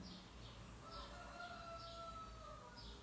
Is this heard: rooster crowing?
yes